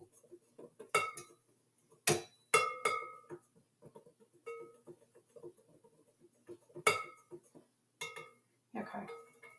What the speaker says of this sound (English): they want you to just like whisk it. So I'm just going to whisk it